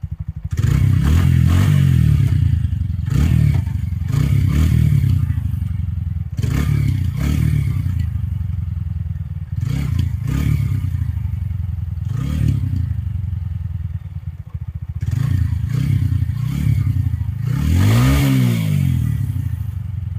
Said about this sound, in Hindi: अभी आपको ब्रेक अप्लाई करके दिखाता हूँ कि हमारी डिस्क कैसा काम कर रही है